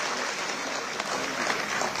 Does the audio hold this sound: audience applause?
yes